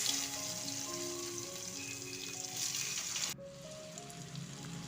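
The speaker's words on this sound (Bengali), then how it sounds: "তাতে পেঁয়াজগুলো তুলে দেবো।" Sliced onions and a bay leaf fry in a kadai, giving a soft, steady sizzle under faint tonal background sound, which drops abruptly partway through.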